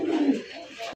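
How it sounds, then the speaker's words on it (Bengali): Indian Kakji pigeons coo in a single close, soft, throaty phrase lasting about a second, then fall silent. "এখানে রয়েছে চমৎকার একটা কাকজি কবুতরের কালেকশন"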